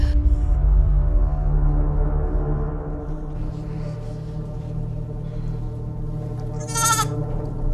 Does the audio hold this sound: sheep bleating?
yes